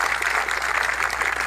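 An audience applauds to welcome a legislator at a public gathering: a short, steady burst of dense, close clapping.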